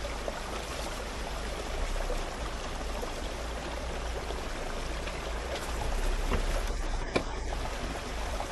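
A Jeep pushes through a river crossing in an off-road setting, the wheels pushing through water with a steady, close rushing wash and an engine rumble underneath, swelling slightly toward the end.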